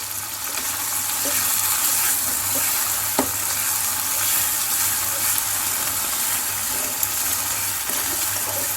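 Beef karahi with lemon juice, garam masala, crushed black pepper and kasuri methi sizzles steadily in the pan while being stirred, with a few sharp scraping knocks of the spoon against the metal.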